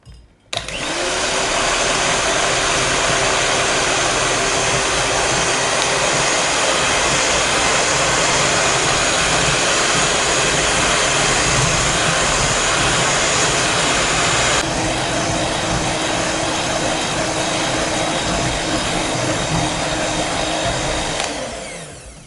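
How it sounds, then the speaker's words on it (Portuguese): An electric hand mixer beats egg whites in a bowl, a loud, steady high-pitched whirring drone that runs unbroken for over twenty seconds, its tone shifting slightly partway through before stopping. "Primeiro eu vou bater as claras."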